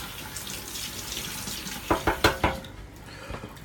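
A kitchen tap runs steadily while a knife is washed in the sink, with a few sharp knocks and splashes near the end and no talking.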